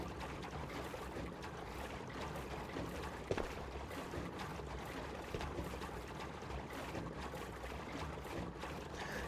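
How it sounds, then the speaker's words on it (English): Gasoline pours steadily in the Ghosts of Tabor video game, a continuous liquid gurgle and splash running the whole time with one brief clunk partway through, no talking. "It's still pouring gas."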